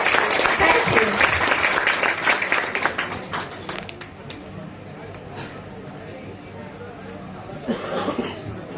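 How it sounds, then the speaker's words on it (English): An audience at an International Women's Day event at an engineering college breaks into applause, loud at first and then thinning into scattered claps, coughs and low chatter toward the end. "May I have a huge round of applause for her."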